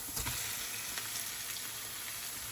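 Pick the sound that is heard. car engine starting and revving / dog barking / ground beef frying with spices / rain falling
ground beef frying with spices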